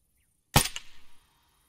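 A single sharp sniper rifle shot in the ArmA 3 video game cracks out of silence, loud and close, followed by a brief rolling echo that fades within about half a second.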